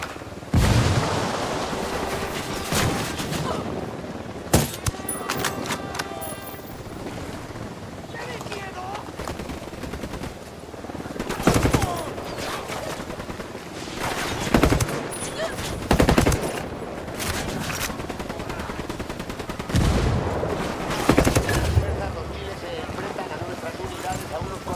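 Sniper shots and bursts of machine gun fire ring out in the video game Ghost Recon Wildlands, several sharp loud cracks spread through a cutscene over a rumbling background, with voices speaking at times.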